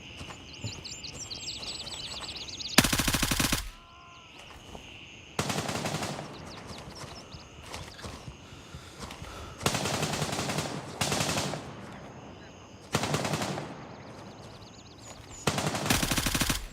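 Automatic gunfire in the military shooter video game Gray Zone Warfare comes as several loud sustained bursts separated by short gaps, with faint bird chirps in the quieter background.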